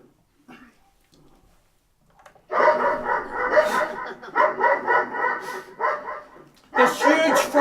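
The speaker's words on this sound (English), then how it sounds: "This huge, ferocious dog with ferocious teeth like daggers, barking ferociously." A big dog barks loudly and repeatedly in aggressive bursts, close by, with growly, harsh tone and brief pauses between volleys.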